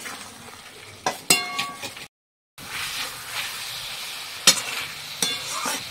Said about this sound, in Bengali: ভেজে রাখা আলু মাছ সব একবারে দিয়ে একটু কষিয়ে নেব